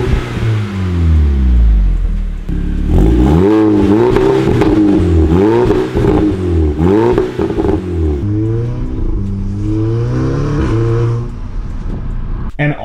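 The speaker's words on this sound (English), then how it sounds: "I have a catless downpipe hooked up to the stock catback on my TTS, and I will put a clip of what that sounds like here" An Audi TTS with a catless downpipe and stock catback exhaust revs hard up and down several times, loud and close. It ends on a lower, rumbling drone.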